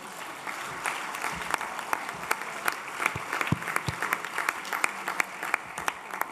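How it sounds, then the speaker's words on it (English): Delegates at a sports conference applaud to welcome arm wrestling, a moderate, even patter of many hands clapping from across a large room, without speech. "we could give a strong applause and welcome arm wrestling into the family"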